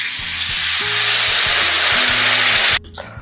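Water hits hot tempering in a pan while cooking a fish curry, setting off a loud, close, continuous sizzle with a low background hum that cuts off abruptly near the end.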